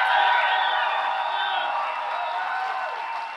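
A crowd at a motivational speaking event clapping steadily throughout, a dense wash of applause with faint cheering mixed in, fairly loud and sustained without a break.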